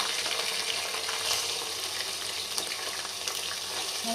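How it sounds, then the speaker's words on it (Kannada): Ginger garlic paste fries with onions for Ambur biryani, producing a constant, dense sizzling hiss with faint stirring underneath. "ಇದನ್ನ ಇವಾಗ ಚೆನ್ನಾಗಿ ಫ್ರೈ ಮಾಡ್ಕೊಂಡು ತಗೊಂಡ್ಬರೋಣ."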